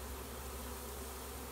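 A honeybee swarm moving into a trap, a dense continuous buzz of many bees hanging in the air, faint and even throughout.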